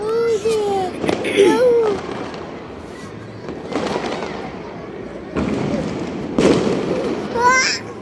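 Fireworks and firecrackers burst at New Year's midnight, a string of loud cracks and booms arriving in clusters over eight seconds, with children's voices and babble mixed in nearby.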